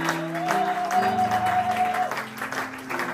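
A church congregation applauds and cheers in praise of the Lord, with steady clapping and crowd noise running under sustained music tones throughout.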